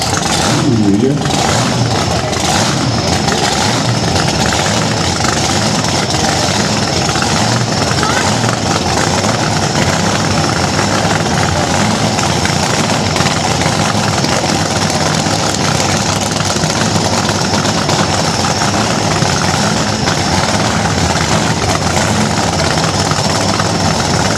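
Old slingshot drag racers at a street car cruise event in Escondido, California, their engines revving and idling loudly up close in a continuous roar, with people talking over the noise.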